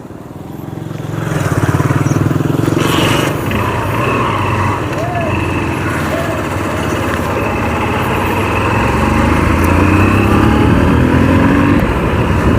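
A motorcycle engine catches after a kick-start and keeps running in a steady, loud rumble as it is ridden along a village road in Kharinasi, with faint voices at times.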